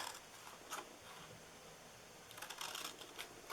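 Scissors cutting down the sides of a printed paper Easter treat box, a few quiet crisp snips in two bursts near the start and again toward the end, with soft rustling of paper between them.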